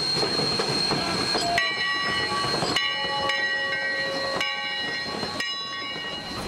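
A steam locomotive, number 3 of the Sierra Railway, moves slowly past into a depot with steady mechanical rumble, squealing metallic tones and clanking, fairly close and continuous.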